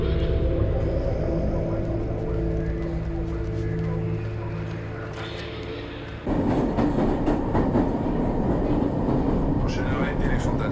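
A metro train at a subway station, a steady rumble that changes abruptly into louder rolling rail noise with clattering, running throughout and filling the scene.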